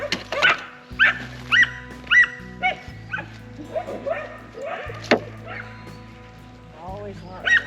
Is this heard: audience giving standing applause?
no